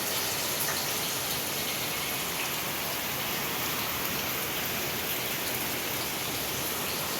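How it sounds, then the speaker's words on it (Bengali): Light drizzle falling on a rainy day, a steady soft hiss of raindrops on surfaces with no distinct individual drops, constant throughout and with no talking. "এইদিকে দেখো বৃষ্টি ঝিরিঝিরি পড়েই যাচ্ছে।"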